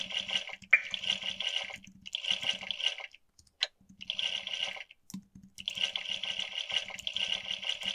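A waterfall in the retro role-playing game Exile III plays as a looping rushing-water sound effect, coming in repeated bursts separated by short silences, with faint clicks between them.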